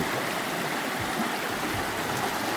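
River water at the Assin Manso slave river site, flowing in a continuous broadband rush, loud and close, steady throughout with no talking.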